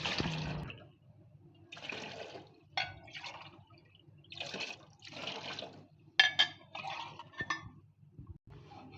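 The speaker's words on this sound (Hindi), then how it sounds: "नाज़रीन, हमने इसमें पानी शामिल कर दिया है।" Water poured into a pot of cooked chickpeas for chana pulao, heard as several bursts of splashing and gushing liquid with clinks of a vessel against the pot, close and fairly loud.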